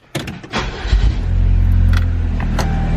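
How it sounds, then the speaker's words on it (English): A Saab 9-3 2.0T turbo engine cranks and catches on a cold start, then settles into a steady, low rumbling idle around 1300 RPM through a louder-than-stock turbo-back exhaust, with a few faint clicks and rattles on top. "So that's kind of how it sounds. Cold start idle, probably about 1300 RPM."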